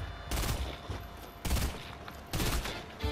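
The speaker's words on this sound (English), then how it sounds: "I can see him sniping" Gunfire in a Fortnite match crackles out in three loud, separate bursts of rapid shots with short quiet gaps between them. It sounds near and harsh, with only faint voice beneath.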